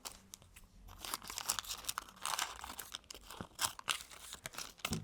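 Scissors roughly cutting a shape out of paper or fabric for a Christmas sewing project, close and quiet, with irregular crisp snipping and crinkling strokes throughout and no talk.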